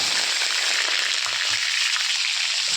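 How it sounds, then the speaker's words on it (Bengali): Potatoes going into hot oil set off a loud, steady sizzle and crackle of frying that carries on without a break, with no talk over it. "তেল গরম হয়ে গিয়েছে, এখন আমি এখানে দিয়ে দিচ্ছি কতটা আলু"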